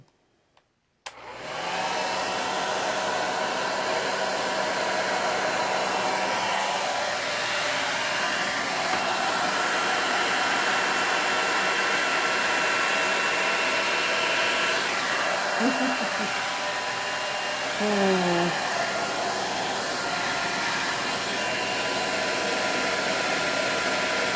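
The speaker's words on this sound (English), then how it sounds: "It's not the paint. It's definitely the blow dryer" A hair dryer switches on after a brief click and roars continuously on high speed, blowing paint, loud and close, with faint voice-like tones briefly under the whoosh.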